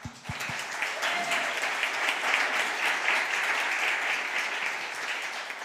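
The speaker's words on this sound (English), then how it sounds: "So a big round of applause." Audience applause at a town council meeting, a steady wash of clapping from a room of people that rises quickly and continues evenly for several seconds.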